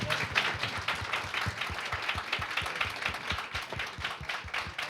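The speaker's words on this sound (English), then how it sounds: "big round of applause" A modest audience gives a round of applause at the end of a talk on belonging and home, with crisp, rapid clapping from a fairly small group that holds steady for several seconds.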